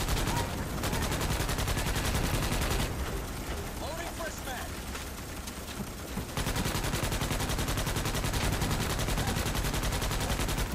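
Rapid, sustained automatic gunfire from the video game Starship Troopers: Extermination, dense and loud throughout with a brief thinner stretch midway, while a player talks over it.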